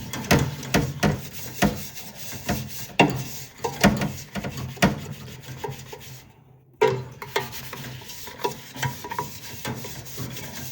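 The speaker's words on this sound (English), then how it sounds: "go around one more time before I rinse to see how well the scrubbing action actually worked" Steady back-and-forth scrubbing of a burnt stainless steel pot, rasping strokes repeating rhythmically and close by, with a brief pause partway before the scrubbing resumes.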